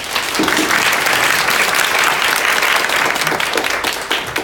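An audience applauds after a talk at an Amway business presentation, loud sustained clapping from a full room that carries on for several seconds before tapering slightly.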